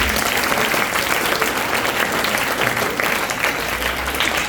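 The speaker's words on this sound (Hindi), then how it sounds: "एक बार इनके लिए जोरदार तालियां।" Loud, steady applause from a school audience at a disaster-safety and first-aid awareness session, dense clapping running unbroken throughout with no clear voices on top.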